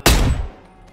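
A gunshot in the VR game BONELAB, fired as a real-time trick shot: one sharp, loud blast with a short rumbling tail that fades within half a second, then quiet room tone.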